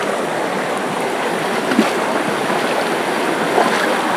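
A jungle waterfall deep in interior Kalimantan gives a steady, full rush of falling water, broad and unbroken throughout, with no voices.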